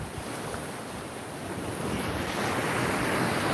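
Ocean surf at Destin Beach washes in a steady broadband rush, close and fairly faint, rising slightly toward the end, with wind buffeting the microphone.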